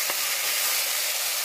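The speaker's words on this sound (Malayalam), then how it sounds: "ഉള്ളി നല്ല സോഫ്റ്റ് ആവുന്നത് വരെ വഴറ്റാം." Crushed onions and green chilies sauté in a pan for beef vindaloo, giving a steady, even sizzle and hiss that holds level throughout, close and unbroken, with no talking.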